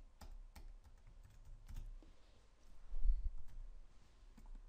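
Soft, rapid clicking of keys on a computer keyboard, typed in quick uneven bursts, faint and close with no voices.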